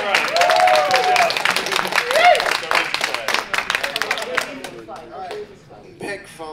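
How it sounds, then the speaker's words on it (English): Convention panel audience gives a lively round of applause, dense clapping that is loud at first and thins out toward the end, with voices and a cheer mixed in. "You guys get a round of applause."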